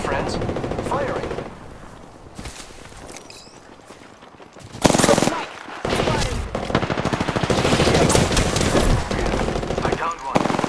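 Bursts of automatic gunfire and single shots in a sci-fi shooter video game, loud and dense, rattling on almost without pause, with a voice talking over parts of it.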